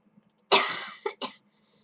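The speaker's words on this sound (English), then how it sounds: "This damn cough is gonna kill me one of these days." A person playing Minecraft gives one harsh, fairly close cough followed by two shorter coughs, alone with no talk.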